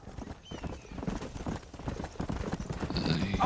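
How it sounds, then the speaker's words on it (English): Horse hooves gallop in the Western video game Red Dead Redemption, a rapid, continuous clip-clop close by with a brief neigh near the end, while game music and ambience run underneath. "Almost! My horse can't keep up!"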